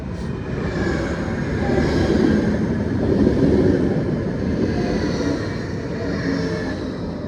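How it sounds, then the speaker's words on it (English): A train rumbles past at close range, a steady broadband roar and rattle of wheels on track holding for several seconds without letting up. "here comes the train."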